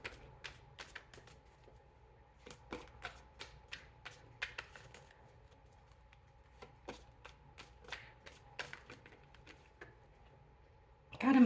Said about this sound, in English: I'm going to shuffle the cards again